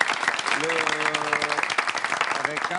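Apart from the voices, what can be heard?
audience applause for the athlete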